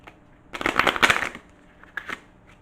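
A quick riffle of tarot cards being shuffled up close, a dense flutter lasting about a second, followed by a couple of softer card taps.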